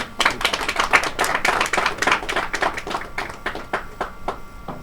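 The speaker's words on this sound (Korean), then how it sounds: "박수 쳐야지 이때." Audience hands clapping through a lecture hall at a special guest talk by a monk, a dense run of sharp slaps for about five seconds, fairly loud and steady with no speech over it.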